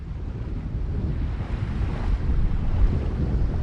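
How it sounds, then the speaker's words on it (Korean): Waves wash on a wide, open seashore with no obstacles, a dense low rumble of surf mixed with blustery wind buffeting the microphone, continuous and fairly steady. "장애물이 없는 넓은 바닷가. 이곳은 매의 영역입니다."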